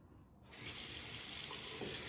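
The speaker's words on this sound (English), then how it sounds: "Okay, so I'm going to rinse." Warm water runs steadily from a tap into a sink while the face is rinsed, starting quietly and swelling into a continuous, close splashing flow after a brief softer moment.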